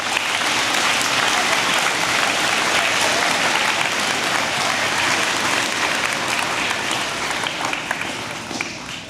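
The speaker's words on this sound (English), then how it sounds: "Give yourselves a clap." A school auditorium crowd claps for graduating 8th graders at a middle school moving-on ceremony, a loud, dense, continuous burst of applause that holds steady before easing slightly toward the end.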